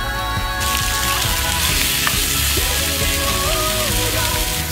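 Button mushrooms and bell peppers sizzle loudly in a hot wok with soy sauce, a dense continuous frying hiss close up, with clanging cookware tones ringing over it.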